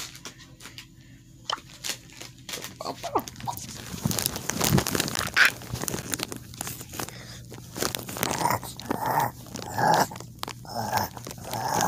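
A dog character in the mobile shooter Brawl Stars, heard as growly, snarling bursts mixed with crunching, biting and crinkling effects that grow busier and louder partway through, with no talk.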